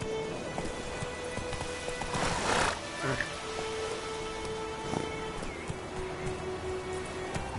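Roach the horse in The Witcher 3 gives a whinny with hoof clip-clops and ambient game sounds, a bright neigh burst early on, with talk over the top.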